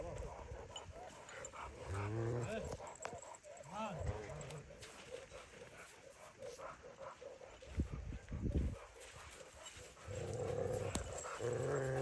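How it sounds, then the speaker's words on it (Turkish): Kangal dogs at an outdoor Kangal competition growl and bark in short, close bursts, mixed with people talking throughout and some yelping in the background. "Karşıda dişi köpeğimiz Aşkar var."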